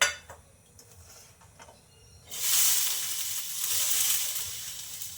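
Green chillies roast in a pan for thecha. A quiet stretch with faint clinks gives way, after about two seconds, to a loud, steady sizzle that holds to the end. No one speaks.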